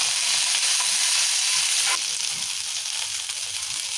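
Onions, green chillies, coriander, curry leaves and mint fry in a pan for a masala paneer curry, giving a steady, close sizzle that holds level throughout and eases slightly after a brief stir.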